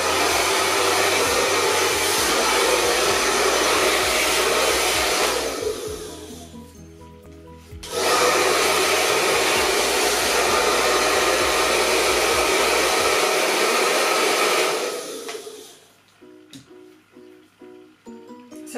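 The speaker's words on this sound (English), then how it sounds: "I'm going to do these in quite small sections and then just blow dry" A hair dryer roars steadily and close while blow drying small sections of hair for pin curls, cutting out briefly, starting again, then stopping near the end.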